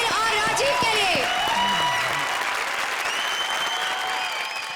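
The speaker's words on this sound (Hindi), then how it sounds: "जोरदार तालियां स्वप्निल और राजीव के लिए।" Loud, dense audience applause in a comedy show studio, steady throughout, layered with whistling, bright cheering tones and a melodic musical sting over the clapping.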